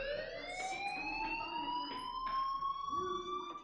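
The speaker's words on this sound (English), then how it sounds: "Hey, do you hear that fire alarm?" A fire alarm in the DayZ video game sounds steadily throughout, its rising electronic tone and bright harmonics holding at a constant loud level, while a low murmur sits faintly beneath.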